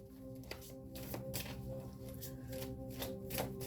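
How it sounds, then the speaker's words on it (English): Tarot cards are shuffled close by in repeated quick riffling bursts, soft flicking and slapping sounds over a low background hum. "I'm going to shuffle these again because I don't want to get the energy mixed up"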